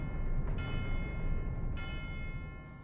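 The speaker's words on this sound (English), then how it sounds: "Do you hear those bells? Those sweet bells ringing?" Bells ring in the video game Red Rope, a sustained chime with layered tones and two soft fresh strikes, steady and fairly loud with no voices over it.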